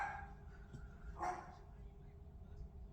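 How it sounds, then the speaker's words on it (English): A dog barks once, briefly and at a moderate distance, in an indoor room beneath a steady background hum. "She's barking."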